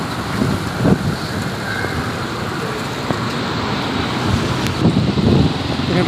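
Strong wind roars and rumbles steadily during a storm in Riyadh, buffeting the microphone with louder gusts near the start and end, with faint road traffic beneath.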